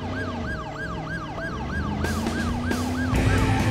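An ambulance siren in the video game Driver San Francisco wails in a steady repeating up-and-down cycle, loud and close, layered over a running car engine that grows louder partway through.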